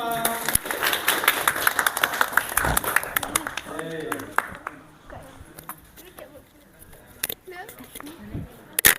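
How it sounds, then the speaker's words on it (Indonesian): A class of teachers in training applauds a group's presentation with scattered claps, denser at first and then thinning into sparse single claps, while voices talk over it. "tepuk tangan untuk kelompok 5"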